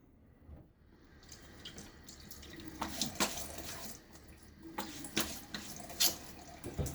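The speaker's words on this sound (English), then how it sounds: "Splash water on my face after I use a little bit of this to break up some face oils." Water splashing at a bathroom sink as a face is rinsed before a shave, a steady running-tap wash under repeated close, uneven splashes that swell and fade over several seconds, no talk.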